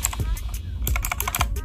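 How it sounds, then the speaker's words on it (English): Mechanical key clicks from a GameSir Z1 plastic gaming keypad, a few close, crisp taps spaced irregularly over a low background hum. "For me, it's nice when I hear the clicking sound."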